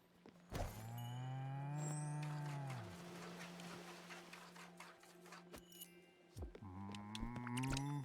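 A cow moos in the video game Spiritfarer, long drawn-out lowing calls that rise and fall, heard twice with a pause between them, set against the game's background sounds.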